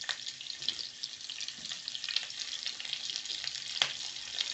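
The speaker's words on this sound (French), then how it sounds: "nous allons faire revenir nos oignons" Onions fry in a saucepan, giving a soft, steady sizzle close by with faint stirring clicks and no talk.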